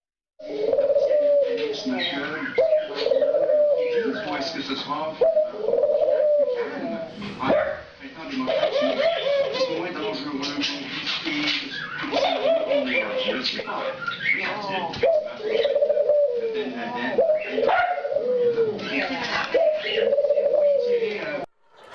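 Repeated soft, low cooing calls from a bird in a steady rhythm, fairly close and continuous, with brief pauses between phrases.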